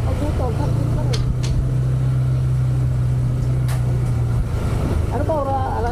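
Road traffic surrounds a motorcycle on the move: a constant close engine hum with occasional clicks and passing vehicle sounds, and a rider's voice speaking briefly over it.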